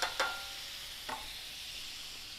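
Pan-fried cod simmers in lemon juice with a soft, steady hiss. A couple of light utensil taps come near the start. The whole sound is faint.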